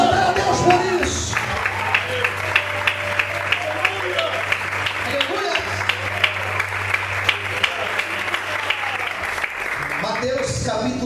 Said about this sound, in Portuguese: Você pode aplaudir e exaltar a Deus por isso